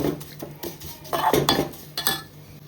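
A spoon stirs saffron rice kheer in a metal pot, giving soft scraping strokes and a few light clinks against the sides, close and fairly quiet, in a short irregular rhythm.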